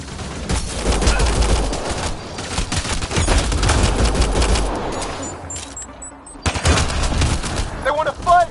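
Gunfire in a Mass Effect battle, sustained rapid automatic bursts and shots rattling continuously, loud and close, with a brief lull before more firing and some voices.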